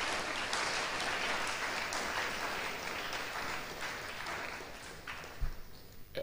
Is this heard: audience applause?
yes